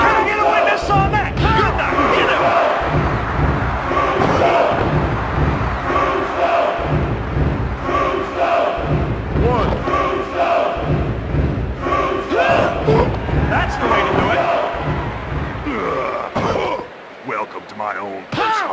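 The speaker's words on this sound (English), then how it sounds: "Listen to this crowd." A large wrestling arena crowd roars and cheers in loud, sustained waves, with thuds and slams rising through the din and a commentator talking over it, before a sudden drop near the end.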